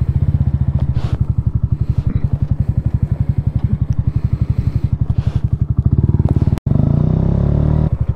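A Yamaha R125 motorcycle engine runs steadily close by with a dense, even pulse, then cuts out abruptly for a moment before rumbling on, loud and alone with no voices.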